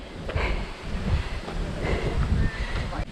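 Strong wind at a high hilltop viewpoint on a hiking trail, gusting and buffeting the microphone in rumbling surges, with no talking.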